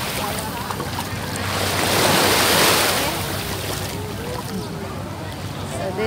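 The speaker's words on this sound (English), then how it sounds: "So this is the whole beach." Waves wash steadily onto a beach with loud wind buffeting the microphone, the surf swelling to a broad peak midway before easing back, while a person talks over it.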